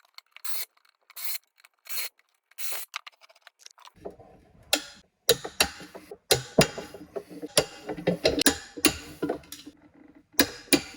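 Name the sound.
torque wrench tightening wheel nuts on three-piece rims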